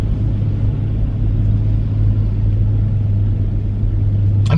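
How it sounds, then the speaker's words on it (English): A late-1970s Chevrolet truck ahead in traffic gives off a steady, deep engine rumble, droning continuously and fairly close, with a brief sharp noise at the very end. "This truck in front of me is literally like probably like a late 1970s Chevrolet truck. Can you hear it? It sounds like a boat"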